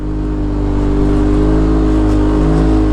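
Turbocharged 2018 Polaris RZR XP Turbo UTV engine on 32-inch BFG KM3 tires revving hard with clutch tuned for altitude, a loud, close, sustained droning roar that climbs slightly without any voices.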